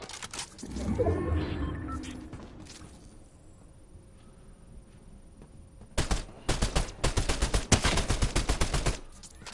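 Striker burst rifle fire in Fortnite: after a low, rumbling stretch, loud rapid bursts of shots crack out close by, repeated in quick succession over the last few seconds.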